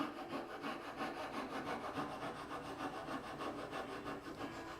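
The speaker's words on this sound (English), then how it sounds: "That's probably the most difficult technique to kind of get down, is using this coping saw." A coping saw cutting through wood for a blanket chest, with steady rhythmic back-and-forth strokes at an even pace, close and moderately quiet with no talking.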